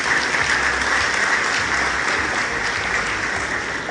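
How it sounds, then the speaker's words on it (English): An audience at a talk on Nigerian healthcare gives sustained, even applause, a thick wash of many hands clapping that holds at a steady level for several seconds. "So please, another round of applause for him."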